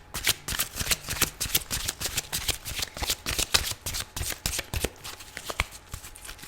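A deck of tarot cards is shuffled up close, making rapid, repeated papery riffles and slaps in steady bursts that run throughout with no talk.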